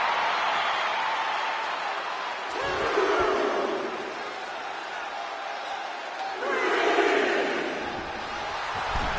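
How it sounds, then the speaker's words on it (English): A wrestling arena crowd in WWE 2K24 roars steadily, with a commentator talking over it. The roar swells loudly twice. "The sound of this crowd is deafening, and he's asking for more."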